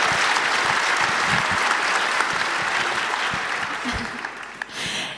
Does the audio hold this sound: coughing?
no